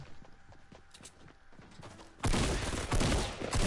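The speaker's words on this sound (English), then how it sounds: "I'm gonna pull out with the snipes" Gunfire in a Fortnite squads match, with soft footstep-like taps giving way to a dense, loud burst of rapid shots at close range.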